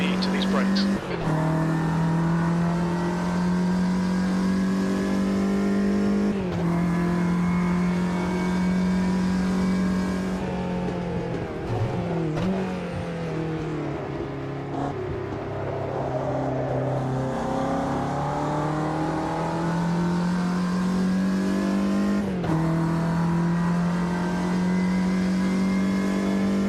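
Small race car engine in Automobilista 2 holds a steady high drone, dipping briefly at gear changes and easing off for corners, loud and continuous with a voice talking over it.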